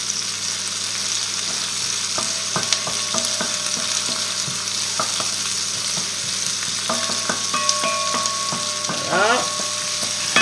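Chicken strips in curry sizzle steadily in a pan while a utensil scrapes and clicks against it in irregular strokes, one short word spoken over the frying.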